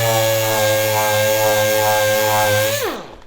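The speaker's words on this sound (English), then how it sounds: "We'll sand the face of both sides, which will clean up this seam." Power sander working over the seam of a wooden tabletop with 120 grit sandpaper, a loud, close, steady buzzing motor hum that holds evenly, then winds down as the tool switches off.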